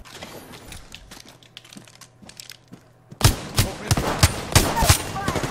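Rapid bursts of gunfire from the Apex Legends video game, including a shotgun and a heavy pistol, crackle loudly and repeatedly in the second half after a stretch of quieter background game sounds.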